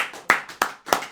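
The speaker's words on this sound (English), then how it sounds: "Give us a round of applause" A few hard, close hand claps from a podcast studio audience, three or four strong slaps at a steady beat, loud and dry with nothing else underneath.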